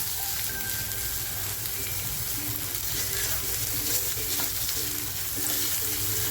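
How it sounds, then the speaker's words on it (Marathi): Chopped onion frying in oil until reddish-golden for a spicy Maharashtrian chicken curry, giving a steady, even sizzle throughout with faint stirring underneath and no talk. "थोडंसं आता तेल टाकते आणि जो कांदा घेतलाय तो कांदा टाकते कांदा आपल्याला असं व्यवस्थित लालसर परतवून घ्यायचं आहे"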